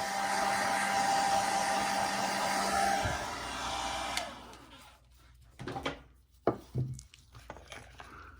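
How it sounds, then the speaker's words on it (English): A heat gun blows with heat on high and blower on low, a steady close whooshing hum that cuts off partway through, followed by a few scattered knocks and handling clatters. "the heat is on high and the blower is on low"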